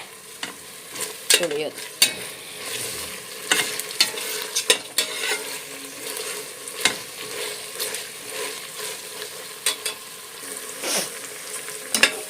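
Onions frying with ginger-garlic paste in a pan, sticking to the bottom, for an avarekalu pulao: steady sizzle with repeated sharp scraping and stirring strokes, close and fairly loud, no talking.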